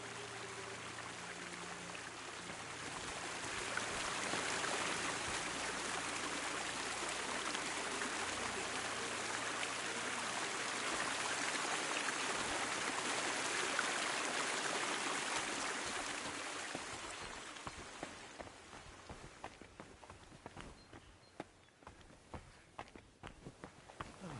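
Steady rushing water pours into a cistern in the middle of a monastery in Kingdom Come Deliverance 2, a broad continuous wash that fades after a while into scattered light trickles and footsteps.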